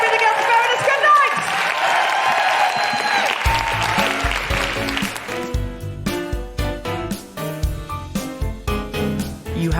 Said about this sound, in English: Big round of applause for King's Place.